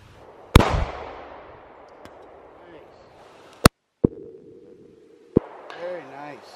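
Rock Island 1911 pistol chambered in 22 TCM fired at a Gunmeister reactive steel target at an outdoor shooting range: several loud, sharp shots spaced a second or more apart, each with a trailing ring, with brief talk in between.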